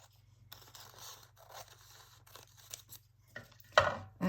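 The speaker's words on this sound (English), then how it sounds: "I think I will do this with my scissors" Quiet scissors snip through paper card in a few soft, scattered cuts and scrapes, ending with a louder rustle of handled paper.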